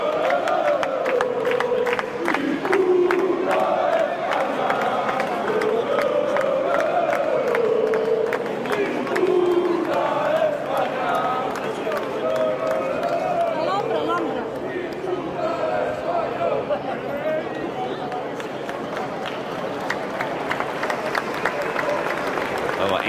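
A large crowd at La Diada, the National Day of Catalonia in Barcelona, cheers and chants in a dense, continuous roar, with voices rising and falling throughout.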